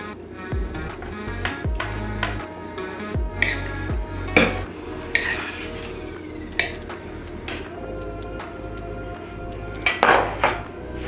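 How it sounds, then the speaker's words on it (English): A spoon clinking and scraping against dishes while nuts and maple syrup are spooned over a wheel of brie, with scattered sharp taps and knocks up close. "I'll just take a spoon and spoon the nuts and the maple syrup over top of it"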